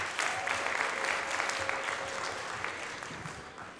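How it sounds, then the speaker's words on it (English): An audience at an elementary school musical claps after a performance, a dense burst of applause that stays strong and gradually tapers near the end. "Let's give one more round of applause."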